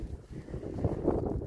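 Wind buffets an uncovered microphone outdoors on a walk, making a steady low rumble with uneven gusts that swell slightly toward the end.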